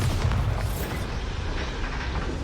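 Deep booming blast from the Bombarda spell in Hogwarts Legacy, a loud heavy explosion with rumbling low end that swells early and then rolls on as sustained noise, with no talking.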